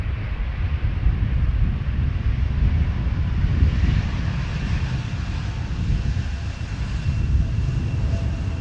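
An airliner lands at Amsterdam Schiphol without using thrust reversers, giving a broad, steady, distant engine roar mixed with wind buffeting on the microphone that holds at an even level throughout.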